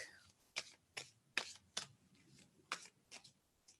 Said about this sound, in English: And tell me I should stop shuffling.